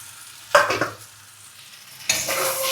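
Potatoes that were fried first are stirred into a chicken curry in a pan, giving soft scraping and sizzling strokes in two short bursts over a quiet simmer, close by and with nobody speaking.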